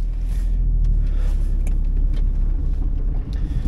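A 2009 Smart Fortwo with an automated manual transmission accelerates, its engine a steady, loud low rumble heard from inside the car, with faint wind noise and no speech.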